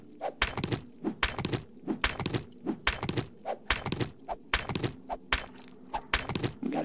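An axe repeatedly strikes a rock in the zombie survival game 7 Days to Die: a steady run of about a dozen sharp, close chopping impacts at an even rhythm, with no talking.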